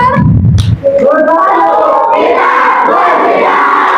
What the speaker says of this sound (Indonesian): Yeay, tepuk tangan yang meriah